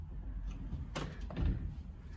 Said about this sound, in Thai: ปิดประตู